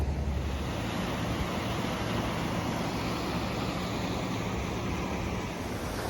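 Spring River's strong current rushing below the dam at Mammoth Springs, a steady, dense roar of water that stays loud and unbroken throughout.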